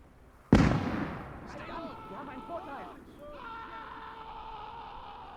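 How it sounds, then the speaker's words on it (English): A grenade goes off in a WWII battle video game: one sudden, loud nearby blast that decays into a rumbling tail, followed by faint voices and game sounds. "that was a grenade that went off there"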